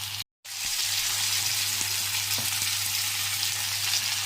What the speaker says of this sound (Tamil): இப்போ மாங்காய் போட்டுக்கிறோம்.